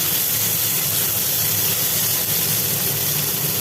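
Chopped onion and raw tomato hiss and sizzle steadily in a hot pan, a continuous close frying sound with no voices.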